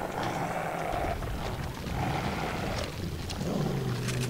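A beast in Resident Evil 4 lets out repeated deep, growling roars, loud and close, in short bursts over a rumbling game soundscape with no talk.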